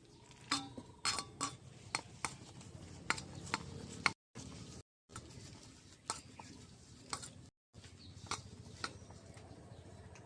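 A utensil beats chicken pakora batter of turmeric, cumin, red chilli powder, salt and water in a bowl, with light, irregular ticking and clinking strokes close by and quiet, broken by brief silences.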